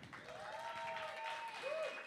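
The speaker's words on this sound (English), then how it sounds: "I want you to do a quick round of applause after I just shout people out" At a hip-hop and grime showcase event, an audience gives a quiet, distant round of applause while a faint tonal whistle or cheer rises over the clapping.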